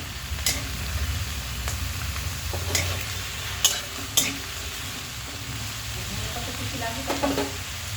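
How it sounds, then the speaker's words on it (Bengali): Potatoes frying in a pan with a constant sizzle, punctuated by several sharp clinks of a utensil stirring against the pan. "আলুটা আমি লাল লাল করে ভেজে নেব"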